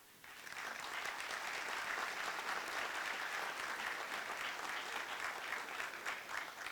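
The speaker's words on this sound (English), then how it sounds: "Please give them all a round of applause." Audience applause at a mayor's ball in Phenix City, starting abruptly and building into steady, dense clapping from a large room that holds for several seconds.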